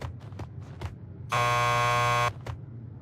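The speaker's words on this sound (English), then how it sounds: "Just press the buzzer by the door." A door buzzer at a police lockup in the video game Max Payne 2 gives one steady electric buzz lasting about a second, loud against quiet background noise and a few faint knocks.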